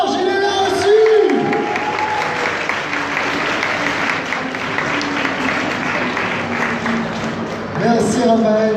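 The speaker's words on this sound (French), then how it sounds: "Un autre tonnerre d'applaudissements, s'il vous plaît, pour Raphaël Sparge" Sustained audience applause at a US actors' convention panel at TGS Montpellier, dense and steady with cheers and whoops woven in, swelling briefly at the start and end.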